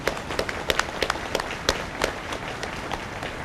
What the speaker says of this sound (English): Can we get a round of applause for all those folks